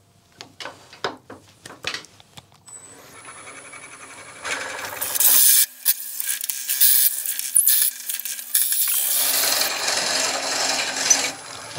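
Wood spinning on a lathe has wax pressed against it during vase turning, starting with a few sharp taps and clicks and then giving way to a loud, continuous rasping rub with uneven surges, no voices.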